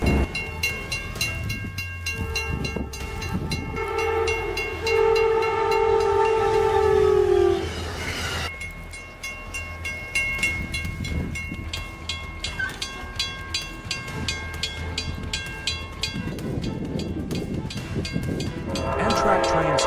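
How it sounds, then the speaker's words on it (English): Amtrak trains clear snow from the rails: a loud horn blast sounds first, then rolling train noise with rumbling, clattering wheels over a broad wash of sound. "Amtrak trains clearing snow at ADMTH demonstrated the importance of rail maintenance and winter transport safety."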